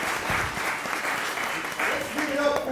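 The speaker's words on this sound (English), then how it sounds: "Give him a big round of applause for putting this together for you." Audience at a city government presentation on artificial intelligence breaks into applause, a dense, fairly loud burst of clapping with voices mixed in underneath.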